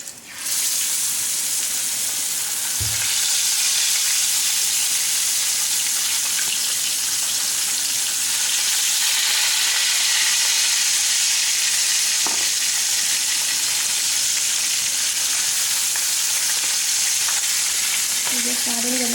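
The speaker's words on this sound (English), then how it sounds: "I'm going to add a little more oil, because this is not enough to fry 4 more pieces." Sheela fish pieces coated in masala fry in hot oil, giving a dense, constant, loud sizzle with a couple of brief clatters, with no talking.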